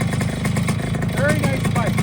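A 1971 Kawasaki 100 G4TR motorcycle engine idling close by, a steady two-stroke putter with slight revving. A voice talks over it.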